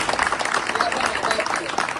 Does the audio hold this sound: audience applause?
yes